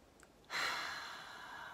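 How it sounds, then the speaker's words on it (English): Deep breath drawn in through the nose during a calming exercise, a single long airy inhale that swells quickly and then holds steady, close and fairly soft, with no talking over it. "you're breathing in through your nose"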